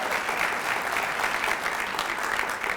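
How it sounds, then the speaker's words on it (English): Audience applause after a Chamber of Commerce CEO's welcome at a State of the Cities event, a dense steady clapping that holds at even loudness through the whole stretch with no voices over it. "Round of applause."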